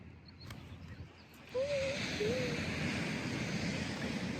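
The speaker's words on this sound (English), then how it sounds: "when the waves aren't as loud" Ocean waves break on a shore, a steady wash of surf that swells louder partway through and then holds, with faint wind and no talking.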